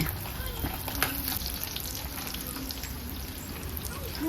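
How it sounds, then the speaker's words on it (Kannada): Onions frying in a pan for a Mandya-style sprouted-bean sambar make a soft, continuous sizzle throughout, fairly faint and even with a little clatter now and then. "ಈರುಳ್ಳಿ ಚೆನ್ನಾಗಿ ಫ್ರೈ ಆಗಬೇಕು"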